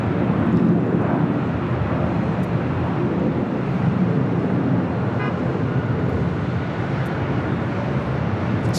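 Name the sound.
ANA Boeing 787-8 Dreamliner jet at LAX airport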